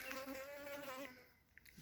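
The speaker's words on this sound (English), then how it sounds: "And you got a bee flying around." A buzzing insect, a bee flying around on a porch near a parked 2019 Harley-Davidson Street 750, hums close by with a wavering drone for about a second before fading, leaving faint clicks and quiet background.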